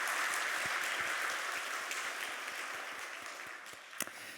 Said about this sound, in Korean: 우리 힘차게 하나님 감동받으시는 박수 한번 하도록